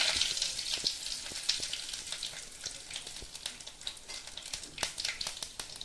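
Crackling, popping sizzle of cumin seeds and bay leaves frying in hot oil, steady and close, with irregular sharp pops throughout.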